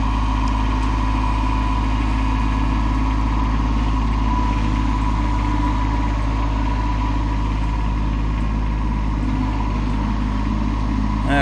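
A tractor fitted with a tooth bar idles steadily nearby, a constant low engine rumble with a faint hum that holds unchanged throughout.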